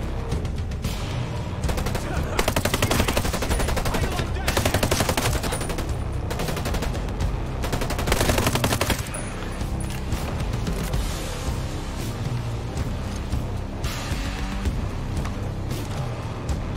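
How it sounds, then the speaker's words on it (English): Dense in-game gunfire in Ghost Recon Breakpoint, including sniper rifle shots, sounds as bursts of loud cracks and rattling volleys, heaviest in the first half and continuing steadily afterward. "there's very little recoil on this sniper"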